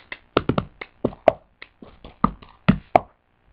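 Hands clap and pat out a cup-song rhythm: a quick run of crisp, close taps and claps in a syncopated pattern with short pauses between groups.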